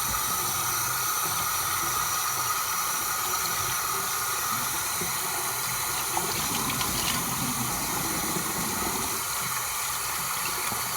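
Warm water running steadily from a tap during a skincare routine, a continuous hissing rush at moderate level with no voices.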